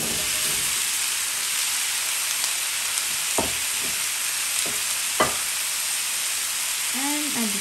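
Onion and garlic fry in a pan for Guyanese pumpkin and fish, giving a loud, even, hissing sizzle broken by a few brief utensil scrapes, with a faint tonal sound near the end.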